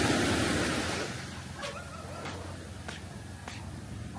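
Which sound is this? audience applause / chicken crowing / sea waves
sea waves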